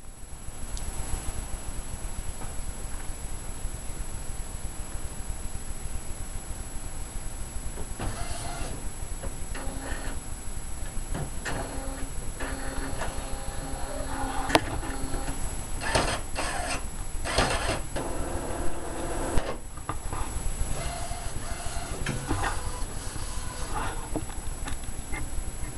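An Epson R-1400 printer converted for eco-solvent bulk ink runs its mechanism: a steady low whir, then a stretch of clicking, ticking and rattling as the carriage shuttles back and forth, close and moderately loud, without talk.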